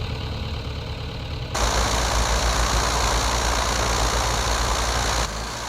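A Piper Cub's propeller engine drones while taxiing in Flight Simulator X, a steady idle that rises sharply in volume for several seconds as the throttle opens, then drops back to a lower hum.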